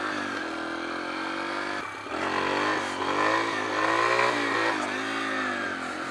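A Yamaha TTR 125 dirt bike engine runs steadily close by, its pitch rising and falling as the throttle is blipped and revved in a continuous, buzzy drone.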